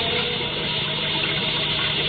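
Water rushes steadily into an enclosed submarine escape chamber, a continuous, dense gushing roar with no pauses and no voices.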